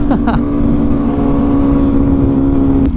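An Italian motorcycle's engine holds a loud, steady, close drone while revving, with a couple of short, sharp exhaust pops near the start and again just before the end.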